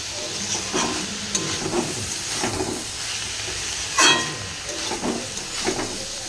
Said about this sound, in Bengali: আর এদিকে লাউ শাকটা কষা হয়ে গেছে, এবারে আমি একটু জল দেবো।